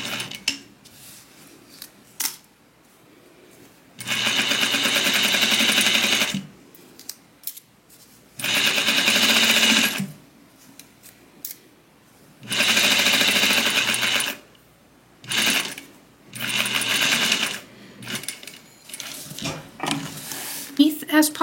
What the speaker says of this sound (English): So I'm first going to sew this side down